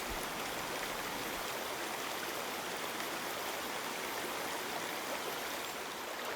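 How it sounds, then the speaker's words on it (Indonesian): A year-round river fed by a spring flows in a constant, full rushing wash, steady and fairly loud, with no voices over it. "Sungai ini nggak pernah kering ya di musim kemarau ataupun musim hujan."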